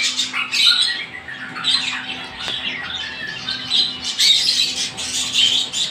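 A pair of conure parrots at a pet bird sale squawk in harsh repeated bursts close by, with a steady background hum under the calls.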